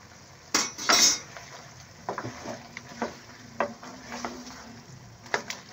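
Softened, peeled tomatoes are stirred and mashed in a pot for chicken karahi. A soft sizzle runs underneath as a spoon scrapes and clinks against the metal in irregular bursts, loudest near the start.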